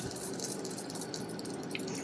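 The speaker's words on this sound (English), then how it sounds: "So we're going to test spray." A spray bottle of isopropyl alcohol hisses out a steady, close mist, used while finishing a blue epoxy marble countertop.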